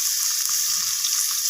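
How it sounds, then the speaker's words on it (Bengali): Drumstick (moringa) pieces frying in hot oil, a steady bright sizzle close by with light crackle and no voices. "এবার আমি ওই একই তেলের মধ্যে সজনে ডাঁটাগুলোকে একটু ভেজে নেব।"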